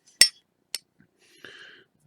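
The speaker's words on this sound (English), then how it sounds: "that hammer will come up and strike this firing pin on the rear of the bolt here" A rifle hammer snaps forward and strikes the firing pin at the rear of the bolt, making two sharp metallic clicks in quick succession followed by a softer rattle, close and isolated.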